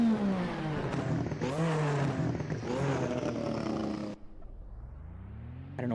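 Engine of a Lotus 98T Formula 1 car in Assetto Corsa on the Nordschleife, a loud buzzing high-revving roar climbing through rapid gear shifts for about four seconds, then cutting to a low rumbling idle and a brief rev at the end.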